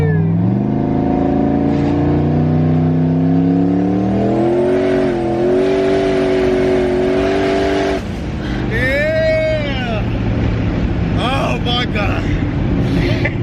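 A turbocharged Buick Regal accelerates hard, its loud engine climbing steadily in pitch under load for about eight seconds before the revs drop and then build again, heard from inside the cabin.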